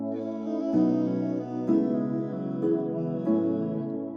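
A singing voice with formants shifted down by 12 moves through a short melodic phrase, sounding thick, deepened and unnaturally dark.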